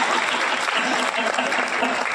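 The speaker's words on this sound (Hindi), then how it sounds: "तालियों का घनत्व कम है।" Audience at a Hindi poetry gathering (kavi sammelan) in Ratangarh claps continuously, a dense, even wash of applause filling the whole stretch without pauses.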